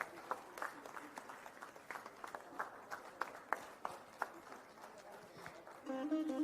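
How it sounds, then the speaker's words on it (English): An audience claps steadily at a moderate distance, a sustained patter of applause at a conference inaugural ceremony that briefly swells near the end. "With a big round of applause, let's invite Shri A.V. Manjunatha on the dais."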